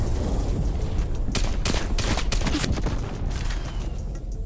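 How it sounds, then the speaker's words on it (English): Strafe run airstrike in a multiplayer shooter video game, heard as a dense burst of rapid gunfire and booming impacts over a constant rumble of battle noise, loud and sustained for several seconds. "Is that what that sound was? Yeah, we got the strafe run."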